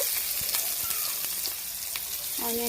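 Finely chopped onions sizzle in hot oil, a bright continuous hiss with small pops and a brief clink of a utensil near the end.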